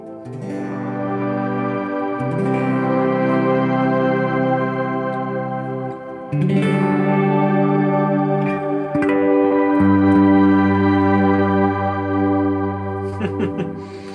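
Sustained guitar tones shaped by a Fractal effects processor ring out as rich, chorus-like held chords that change every few seconds, with shimmering overtones and a swelling, layered texture.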